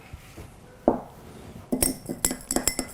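A spoon clinks against a glass of water while stirring in salt: one sharp ping, then a quick series of rapid ringing taps, close and clear with no talking.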